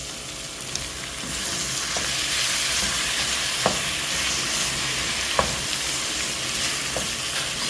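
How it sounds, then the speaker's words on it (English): Tomatoes and carrots cook together in a pan for a Kenyan-style green peas curry. A broad, even sizzle holds throughout with a few crisp clicks and utensil knocks, close and steady, with no one talking. "I'm adding in our tomatoes."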